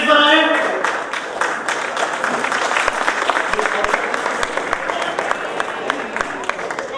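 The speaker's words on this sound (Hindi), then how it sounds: "जोरदार तालियां आशु मीना के लिए" Loud applause from a crowd at an Ambedkar Jayanti celebration as quiz winner Ashu Meena comes up to the stage. It opens strong, then continues as a dense, steady patter of claps for several seconds.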